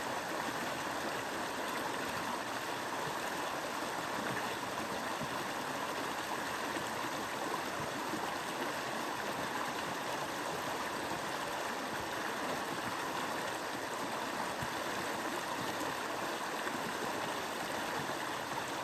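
Spring Creek flows beside a campsite with a steady, broad rushing of water, constant and unbroken, heard close at moderate loudness.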